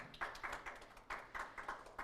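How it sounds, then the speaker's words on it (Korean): Sparse, faint clapping from a small seminar audience on digital healthcare, individual claps audible in loose irregular bursts rather than a full roar. "다시 한번 뜨거운 박수를 부탁드립니다"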